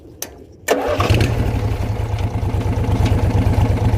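A hot rod tractor with a Briggs & Stratton engine cranks over in a short burst, then catches and settles into a loud, steady, close idle that runs to the end.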